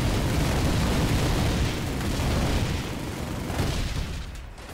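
Heavy explosions and booming artillery-like fire in the tower defense video game Forward Defense as enemy fire destroys a barricade, a loud, continuous rumbling barrage that eases slightly toward the end.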